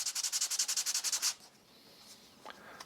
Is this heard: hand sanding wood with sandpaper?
yes